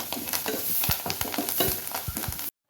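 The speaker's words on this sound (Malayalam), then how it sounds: "പിന്നെ അതിലേക്ക് ഇത്തിരി കറിവേപ്പില ഇട്ട് കൊടുക്കുന്നുണ്ട്" Ginger, garlic and curry leaves frying in hot oil give a steady close crackling sizzle, broken by a few sharp stirring knocks against the pan, stopping abruptly at the end.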